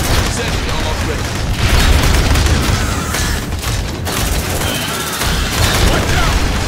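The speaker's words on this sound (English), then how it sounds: "Deploying sentry gun." Sentry gun in the video game Aliens: Dark Descent firing continuously, loud rapid bursts and booming shots layered over game effects, steady and dense throughout.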